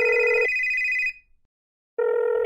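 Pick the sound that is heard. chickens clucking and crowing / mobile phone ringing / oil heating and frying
mobile phone ringing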